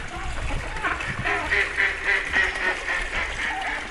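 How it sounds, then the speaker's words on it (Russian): Ducks on a castle-grounds pond quack in short, repeated calls over steady outdoor background noise, with soft splashing as they paddle closer. "И уточки прям к нам плывут."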